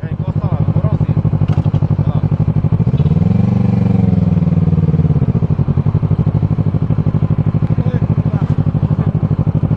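A motorcycle engine idles loudly and steadily up close with a rapid, even putter, swelling briefly as it is moved into a corner and parked during a police stop. A voice speaks over it.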